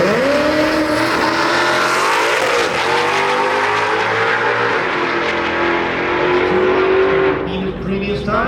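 A 7th generation Corvette at a drag strip roaring loudly and continuously as it accelerates, the engine pitch climbing through gear changes with some tire noise, close and dominant throughout.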